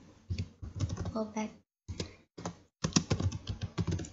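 Keys clatter on a computer keyboard as someone types an SQL insert query, in quick clustered bursts with brief pauses, nearby and clear under intermittent speech.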